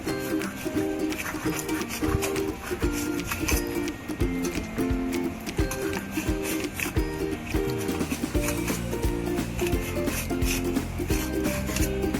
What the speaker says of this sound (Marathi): आपण स्क्वेअर शेपमध्ये कट करून घेऊया